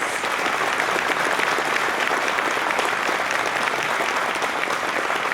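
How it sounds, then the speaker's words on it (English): Sustained, dense applause from a seated audience honoring a panel at a talk about healing buildings, steady and loud throughout with no gaps. "would you please give our panel a round of applause?"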